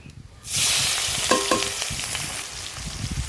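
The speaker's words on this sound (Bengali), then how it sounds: "তেল গরম হয়ে গেছে, এবার চিংড়ি মাছগুলো দিয়ে দেব।" Shrimp dropped into hot oil set off a sudden loud, close sizzle that holds steady with light stirring clinks, then eases slightly toward the end.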